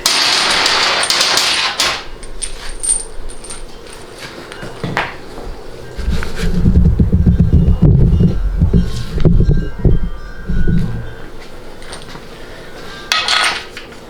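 Bolts are fitted onto a 6L80 automatic transmission during final rebuild assembly, with scattered metallic clinks and taps of hardware and tools, a busier stretch of rattling in the middle and a few sharp knocks near the end.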